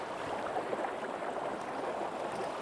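Cold, flowing creek water churns and rushes around someone wading mid-stream, a steady broadband wash heard close and continuous with no talk.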